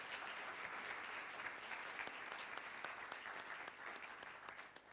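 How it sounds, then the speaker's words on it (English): Sustained audience applause at a plenary session of a world planning congress, dense steady clapping from a large crowd for the presenters, continuous for the whole stretch with no talk over it. "just a quick round of applause for all the presenters and our YPPs"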